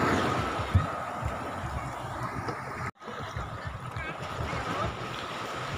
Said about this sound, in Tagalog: aalis na itong motor bangka na to patungo ng Inasakan